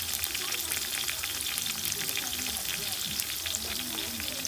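Onions fry in a pan and are stirred with a cooking stick, giving a steady soft sizzle with scattered crackles and light scraping throughout, moderately quiet and close.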